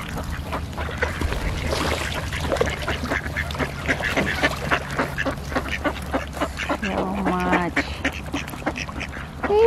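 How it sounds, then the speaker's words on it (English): A large flock of wild ducks in Canada quacks continuously at close range, a dense, busy chorus of overlapping calls, with a person speaking briefly partway through. "so many. They are all wild ducks."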